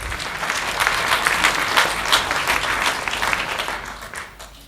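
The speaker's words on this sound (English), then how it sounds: "I should ask you to give them a warm applause" Audience at an evaluation panel session applauds the rapporteurs with loud, dense, sustained clapping that fades slightly toward the end.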